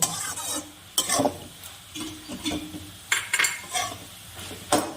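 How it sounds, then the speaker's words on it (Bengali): Dried lote fish and sidol mixture being stirred with onions in a pot, with scraping and clinking of a utensil against metal in irregular strokes over a soft sizzle, close and moderately quiet. "এটাকে আমি মিশিয়ে অল্প ঢেকে দিব।"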